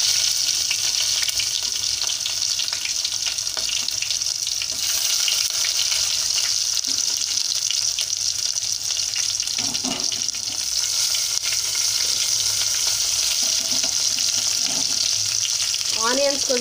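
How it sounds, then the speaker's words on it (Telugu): Onions drop into hot oil already crackling with cumin and mustard seeds, producing a dense, continuous sizzle with occasional spoon scrapes and a clatter near the end. "తర్వాత ఆనియన్స్ వేస్తున్నాను."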